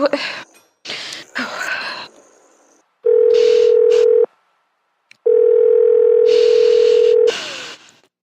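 A telephone line tone sounds while a call is put through to the police department, two long steady tones with a gap between them, loud and close, following a woman's hurried speech on the line.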